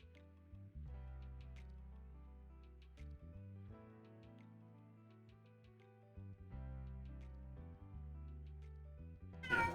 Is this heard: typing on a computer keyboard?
no